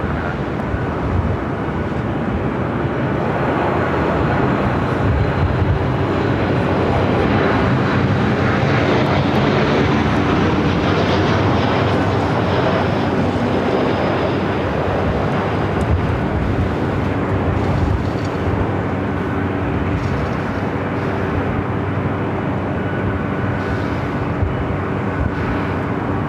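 A jet airliner landing on runway 24 right at LAX in a 20-knot wind, behind a Boeing 737, its engine roar loud and steady throughout with a broad rushing drone that never lets up.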